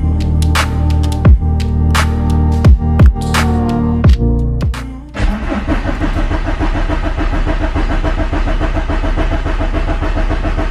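A car with injector problems turns over several times in short cranking bursts before the engine catches and settles into a loud, steady idle close by, with no one talking.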